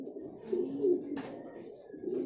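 Pigeons coo softly in a loft as young birds go inside, a few low, rolling calls close by with light rustling.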